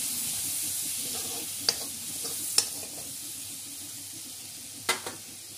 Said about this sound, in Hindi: अब इसको अच्छे तरीके से टमाटर को पका लूंगी।